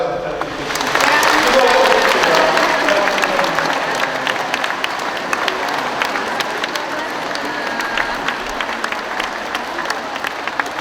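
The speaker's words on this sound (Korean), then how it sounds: "우리 서로에게 사랑과 감사의 박수 부탁드리겠습니다." Congregation applauding in the main hall at the close of an eight-week church Holy Spirit seminar: a loud, dense swell of many hands clapping that rises quickly and then holds steady for about ten seconds with no talking.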